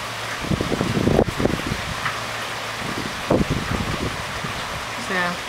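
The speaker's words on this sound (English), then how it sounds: "I'll wait for another gust to come up." Hurricane Irene wind and rain sweep past the front of a house with a garden of roses and vinca at night, a steady rushing hiss with gusty swells, while a person talks intermittently over it.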